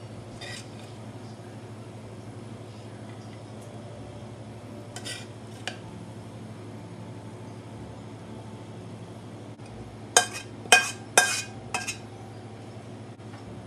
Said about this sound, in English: Now we add it to a plate.